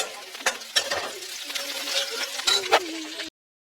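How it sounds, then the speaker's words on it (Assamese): Vegetables frying in a pan for a picnic meal: a soft, steady sizzle with scattered clinks and scrapes of stirring, which cuts off abruptly near the end. "ভাজিখন বনাই লওঁ"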